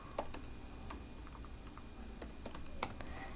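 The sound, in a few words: typing on a computer keyboard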